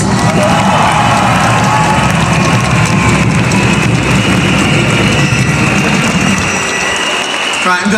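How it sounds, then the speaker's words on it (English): A large outdoor crowd at a Pride parade in Liverpool cheers and applauds loudly and steadily, with scattered whoops and shouts running throughout, then thins slightly near the end. "can I have a round of applause for those"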